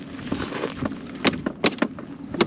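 Sharp metallic knocks from a stone used as a hammer on a motorcycle part, struck in an uneven series of about six hits over a steady background hum, fairly close.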